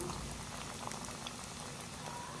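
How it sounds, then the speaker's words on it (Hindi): Potato chicken kebabs fry in a pan over a low flame, giving a steady, dense bubbling sizzle that stays even and continuous throughout, close by with no talk. "बाकी जो कबाब बच गए उनको भी सेम उसी तरह फ्राई करेंगे।"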